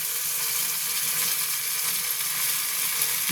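Hot water goes into a sizzling pabda fish curry with poppy seed paste, giving a dense, continuous frying hiss at moderate level, unbroken and without talk.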